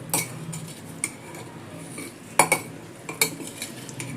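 A spoon scrapes and clinks in a bowl while lemon juice is stirred into raw mango pickle, with a few sharp metallic taps scattered among softer mixing noise, close and fairly quiet.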